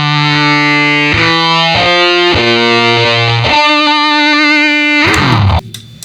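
Electric guitar through a Big Muff fuzz pedal, a loud, thick distorted tone with sustained chords that change every second or so before cutting off at the end.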